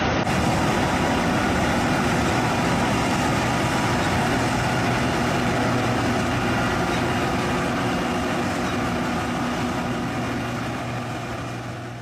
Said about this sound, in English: The combine at work in the field is a Class 5